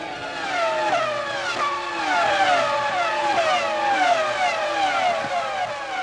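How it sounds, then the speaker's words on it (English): Formula 1 race cars of the 2001 season at the French Grand Prix, Magny-Cours, screaming past in a steady stream, with high whining engine notes sweeping up and down as several cars pass near and accelerate away. "Montoya is fourth ahead of Trulli as the pack make their way round turn 1"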